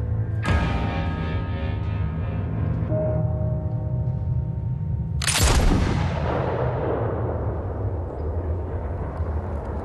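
Gunfire: one sharp, loud blast about halfway through that dies away slowly, over a steady low droning hum, with no talk.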